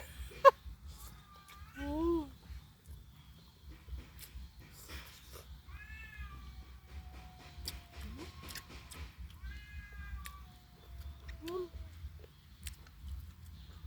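A cat meows several times with rising and falling cries, fairly close, over a low steady background hum and scattered rustles.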